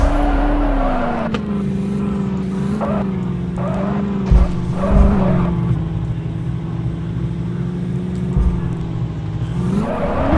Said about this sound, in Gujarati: અત્યારે આપણે ચડાવી ગાડી.